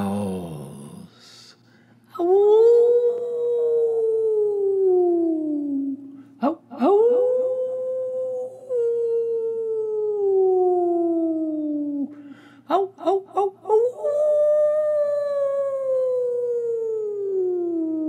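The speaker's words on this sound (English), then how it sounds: "Sometimes the wolf has got to howl." Long, gliding wolf-like howls rise and slowly fall, three drawn-out calls with short breaks and stuttering bursts between them, loud and close against a low steady hum.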